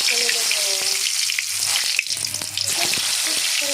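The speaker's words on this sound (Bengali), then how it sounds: "পটল ভাজা হতে থাক" Pointed gourd slices frying in hot oil in a kadai give a loud, dense, continuous sizzle close up, with faint voices in the background.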